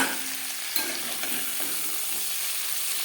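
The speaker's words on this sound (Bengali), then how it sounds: "মাছের মাথা ভাজা হয়ে গেছে" Hot oil sizzles steadily around a frying fish head, with a brief clatter near the start and no voices.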